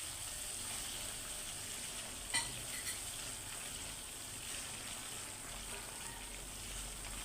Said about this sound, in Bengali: মশলাটাকে আমি সুন্দর করে কষিয়ে নিলাম 10 থেকে 15 মিনিট।